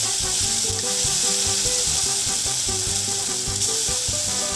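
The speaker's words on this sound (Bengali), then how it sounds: "এবার যেই পেস্টটা রেডি করেছিলাম কারি পাতা, সেটা এর মধ্যে দিয়ে আর একবার ভেজে নেব।" Curry leaf paste frying in hot oil in a wok, giving a loud, dense, continuous sizzle and crackle heard up close without any speech.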